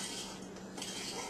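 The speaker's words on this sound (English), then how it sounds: "You want to put the lid on like this" A metal canning lid is set onto a glass canning jar, giving soft, close metallic clinks and scrapes over a quiet room background.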